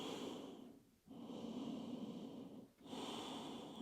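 Long, slow breaths taken while resting in yoga child's pose, forehead on the mat: two full, airy cycles, close and quiet, each ending in a brief pause.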